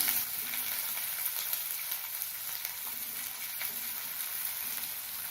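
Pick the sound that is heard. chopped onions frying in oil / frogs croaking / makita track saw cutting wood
chopped onions frying in oil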